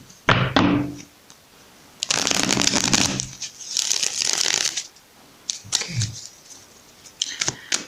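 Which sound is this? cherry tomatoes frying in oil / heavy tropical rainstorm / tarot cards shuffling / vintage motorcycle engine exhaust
tarot cards shuffling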